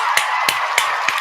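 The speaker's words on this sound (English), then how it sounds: "let me go ahead and give the round of applause to y'all" A few separate claps for podcast listeners, four evenly spaced sharp hits about a third of a second apart, fairly close and clear with no talking over them.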